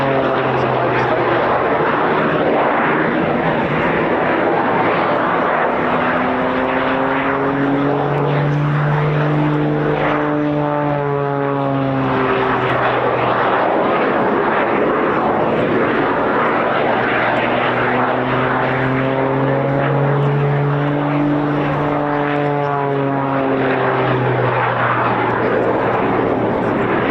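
A propeller-driven aerobatic plane drones continuously overhead at an RAF Cosford air show as it spirals down in a flat spin, the engine pitch rising and falling in long sweeping waves while a commentator talks throughout.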